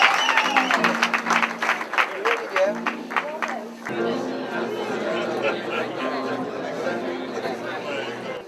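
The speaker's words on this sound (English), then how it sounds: "Then we need a clap for it." Applause at a company's 70th anniversary celebration, starting with a burst of clapping from a crowd and then giving way to loud cheering and chatter that carries on to the end.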